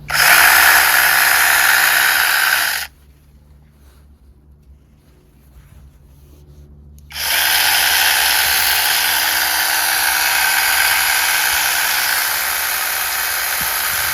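A DEHAN 6-inch brushless 21V cordless lithium-battery mini chainsaw runs loud and steady, cuts out to near silence for a few seconds, then whirs back up at full speed and holds.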